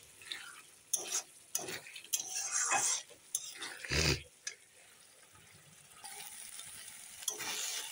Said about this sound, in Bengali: মশলাটা দেখো সুন্দর কষানো হচ্ছে। আর এখন আমি 1 চামচ চিনি দিয়ে দেব। চিনিটা দিয়ে নেড়ে দিলাম।